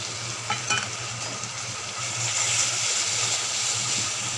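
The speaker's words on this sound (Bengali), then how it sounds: "লঙ্কা আর জিরেটা দিয়ে দেবো একসঙ্গেই দিয়ে দিলাম" Chilli and cumin sizzle in a pan while being stirred, a steady close crackle with a few utensil scrapes early on that swells a little louder halfway through. No one speaks.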